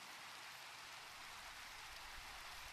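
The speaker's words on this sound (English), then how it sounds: "Be nice if this rain would go away." Rain falls steadily in the Minecraft video game, a soft, continuous, even hiss heard alone at low volume.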